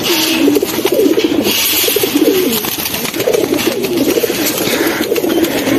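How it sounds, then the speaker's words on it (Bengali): Female Bagha pigeons coo continuously and loudly at close range, several birds overlapping in low, throaty rolling calls. "এটা হচ্ছে বাঘা কবুতর, মাদি কবুতর।"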